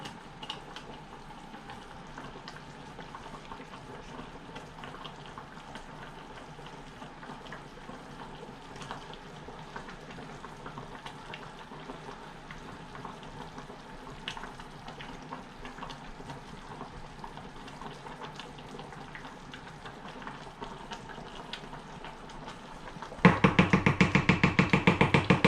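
Quinoa boiling in a pot, with a continuous bubbling, sizzling hiss that holds steady for a long stretch before growing suddenly louder and harsher near the end.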